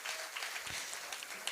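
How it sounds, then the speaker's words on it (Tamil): Applause from an audience at a Tamil cultural music concert, a steady broadband patter of clapping held evenly throughout at moderate distance, alone without talk. "அவருக்கு ஒரு பெரிய கைத்தட்டல் கொடுத்து நாங்கள் அவருக்கு நன்றி சொல்வோம்"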